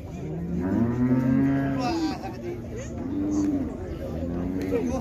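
Cattle low repeatedly at a busy livestock fair, several long, loud moos rising and falling over about five seconds, with voices and crowd murmur in the background.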